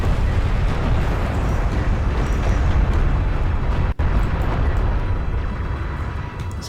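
A nuclear missile blast in the real-time strategy game Homeworld: Deserts of Kharak, heard as a loud, sustained, rumbling roar that fills the whole stretch, broken by one split-second dropout midway before the rumble carries on and slowly eases.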